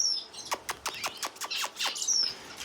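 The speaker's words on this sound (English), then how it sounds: "this is a video about Gouldian Finches, not about Mikey." Gouldian finches chirping in an aviary: a quick run of sharp, high tweets about every fifth of a second, close and clear over a quiet background.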